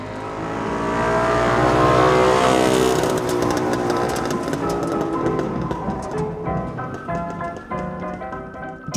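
A Fuldamobil three-wheeled microcar with a Fichtel und Sachs engine runs loud and raspy, swelling toward a peak and then easing off into uneven, sputtering bursts that continue to the end, with no voices heard.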